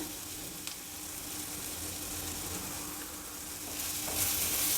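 A tempering of green chillies, cumin powder, turmeric and salt for a buttermilk saaru sizzles in a pan, a dense continuous crackling hiss that swells louder near the end as it is stirred.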